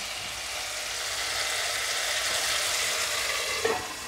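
Tomatoes simmering in a covered pan for a paneer curry, a steady soft sizzle and bubbling hiss running throughout at moderate level, with a brief louder clink near the end.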